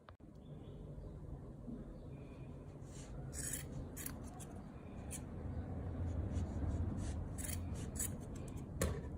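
Scissors snip the yarn ends of a wrapped bundle for a handmade Christmas decoration, giving faint, close rasping cuts and rubbing with no talk.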